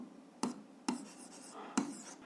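Pen strokes on paper while working a 7th-grade algebra exercise, three distinct scratchy taps spaced across a quiet, close-up passage with faint rustling between them.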